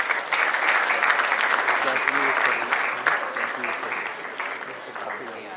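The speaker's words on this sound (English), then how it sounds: "Let's give them a huge round of applause" An audience gives team APS VIHAR a round of applause at an Army Welfare Education Society excellence awards and debate felicitation. Steady, dense clapping from a sizeable crowd runs throughout and eases slightly toward the end.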